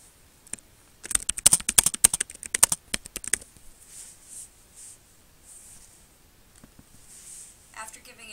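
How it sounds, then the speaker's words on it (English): Brisk typing on a computer keyboard, close and quick, a dense run of key clicks for a couple of seconds before fading into quieter sounds. "After giving it a title, you can type your text down here."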